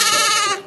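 A short, close bleat from a Jacob sheep, loud and harmonic for under a second before trailing off, with no talk over it.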